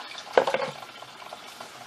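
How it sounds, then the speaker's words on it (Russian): Apple mash poured through a colander into a barrel, a short wet slosh and splatter near the start that trails off into quieter dripping and trickling, close and alone. "Набираю. И через дуршлаг выливаю в бочку."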